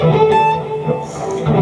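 Electric guitar plays a solo section from a rock song, with sustained, bending lead notes ringing clearly and steadily, no voice over it.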